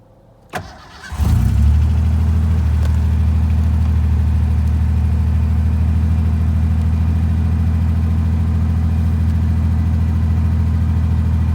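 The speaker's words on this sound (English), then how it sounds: "Now this thing does tick a little bit when it first starts up, but that goes away pretty quick." A 1989 Ford Ranger 4x4 with the 2.9 engine cranks briefly on a cold start, catches, and settles straight into a loud, steady idle that runs on unchanged for about ten seconds.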